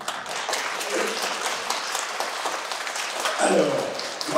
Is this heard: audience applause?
yes